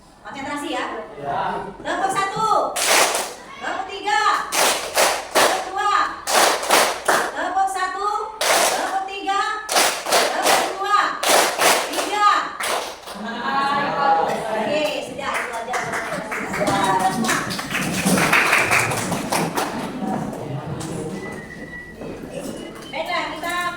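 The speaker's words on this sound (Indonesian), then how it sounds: "Kalau ini lagi, tepuk 1, tepuk 3, diam, tepuk." Students in a classroom lesson clap out a rhythm pattern in short repeated bursts separated by pauses, with a teacher and children talking between and over the clapping.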